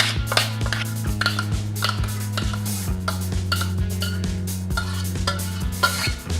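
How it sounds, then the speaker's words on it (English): Mincemeat being stirred into ice cream in a bowl, a steady run of spoon scrapes and soft knocks against the bowl with faint clinks, close up, over a low continuous hum. "mix the ice cream with the mincemeat"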